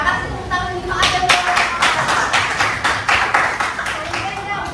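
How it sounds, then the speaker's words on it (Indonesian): A classroom group claps for Pak Adam in a burst of applause that swells after the first second and continues steadily, with voices mixed in. "Kasih tepuk tangan di Pak Adam."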